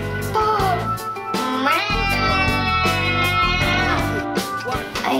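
A voice imitating a bobcat gives a long, loud, drawn-out caterwauling meow, rising and wavering, close and alone with no other talk.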